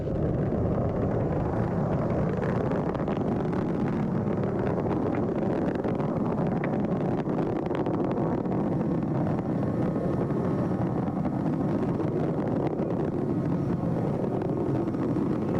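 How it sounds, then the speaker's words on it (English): Space Shuttle Atlantis main engines during the STS-135 launch in 2011, around throttle up, make a steady, dense, wind-like roar that runs unbroken throughout, with no talking. "Engines now revving up, standing by for the throttle up call."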